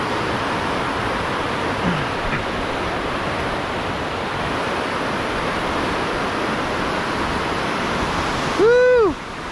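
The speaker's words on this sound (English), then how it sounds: "Sounds quite lively. Some pretty strong rapids there." Strong river rapids rushing near Tongariro, New Zealand, a loud steady broadband roar of turbulent water filling the whole clip, with a brief whistle-like tone near the end.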